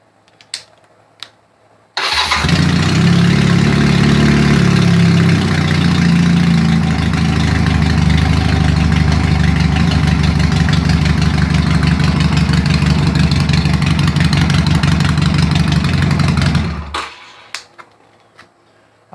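A Honda Rebel motorcycle fitted with Harley parts fires up after a couple of faint clicks, then settles into a loud, steady, throbbing idle close by before cutting off, with no talk.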